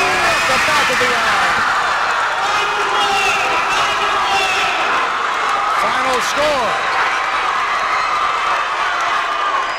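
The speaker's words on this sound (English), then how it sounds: "Listen to this crowd." Loud crowd at a boys high school basketball game between USJ and Sacred Heart roars and cheers continuously after the final buzzer, with sneaker squeaks and a commentator talking over the din.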